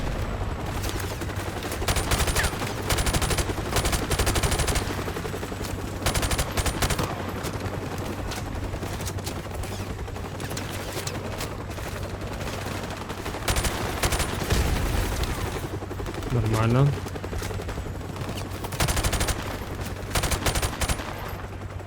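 Bursts of gunfire from Call of Duty: Modern Warfare Remastered recur in rapid volleys throughout, loud and close, with a brief spoken word among the shooting.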